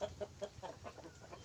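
Farm-bred roosters and hens cluck in short, repeated bursts from a backyard coop. The calls are faint and come from a little way off, with a low background murmur.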